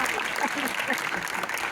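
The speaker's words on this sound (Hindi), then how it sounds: "चार 5 लोग तालियां बजा देंगे।" An audience claps at a Hindi comic poetry recital at IIT Kanpur's Antaragni 2023, a brief spell of dense, steady applause with voices mixed in.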